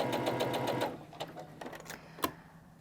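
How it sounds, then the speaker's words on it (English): A sewing machine stitches down both sides of a bias seam on a quilt block made from a charm pack, whirring in a steady rapid rhythm for about a second before it slows into scattered needle strikes and stops. "I'm just going to stitch right down both sides of these lines"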